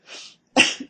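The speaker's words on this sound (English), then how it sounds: "he had managed to stammer between two sneezes" An audiobook narrator voices a sneeze while reading The Scarlet Pimpernel, giving a quick two-part burst: a soft breathy intake followed by a sharper, louder sneeze close to the microphone.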